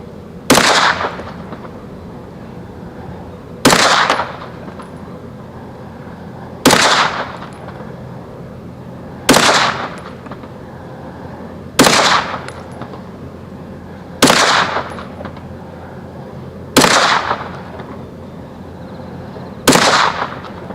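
Canik TP9 SFX 9mm pistol fired at a shooting range with range ammo, eight loud, sharp shots spaced evenly about two and a half seconds apart, each followed by a brief echoing decay.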